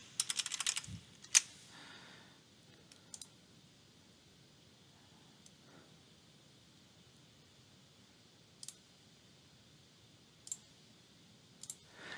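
Keys tapped on a computer keyboard while entering an email address and password, with a dense burst of clicks at the start and then a few scattered, faint keystrokes over a quiet room background.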